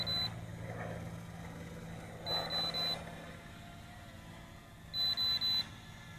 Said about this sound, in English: I hear 3 beeps at a time now.